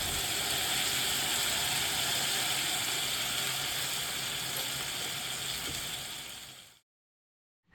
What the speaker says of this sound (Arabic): هشوحه كويس جدا لحد ما الجمبري يغير لون وكمان الخضار يدبل شويه